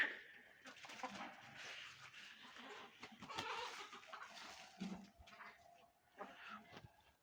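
Young roosters and hens cluck and call in short, uneven bursts nearby after two days of rain, with several birds overlapping and a few sharper squawks.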